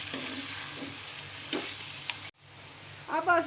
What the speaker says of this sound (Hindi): इसे अब हम मिक्स करते हैं।